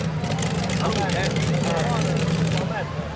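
The Dark Star tractor-pulling machine of team Saviola, fitted with an Ellison engine, runs on the track at Lendinara, Rovigo. Its steady, low engine drone holds throughout while a commentator talks over it.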